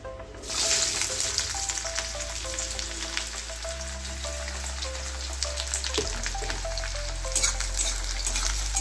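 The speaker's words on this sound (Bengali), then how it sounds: "তেলেতেই পেঁয়াজগুলো ভেজে নেব।" Onions frying in oil in a pan, a steady close sizzle with light crackle throughout and a low background hum, no voices.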